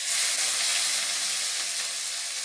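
Chopped tomatoes hit a small amount of hot oil in a pan for Bengali-style chana masala, giving a loud, continuous hissing sizzle from start to finish with no voices.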